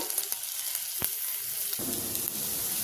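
Green chillies frying in ginger-garlic paste give a steady, close sizzle with a few sharp spatula taps against the pan and a fuller crackle toward the end.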